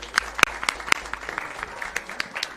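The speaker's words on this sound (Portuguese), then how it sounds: "Uma salva de palmas para o deputado" Applause for a deputy's birthday in a legislative session: sparse, uneven hand claps from a small group, fairly close and lasting a couple of seconds.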